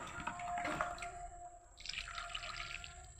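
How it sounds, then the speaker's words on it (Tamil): Water poured into a cement mix in a trough, faint trickling and splashing in two short bursts with a quiet pause between. "இப்போ தண்ணி போட்டுருவோம்."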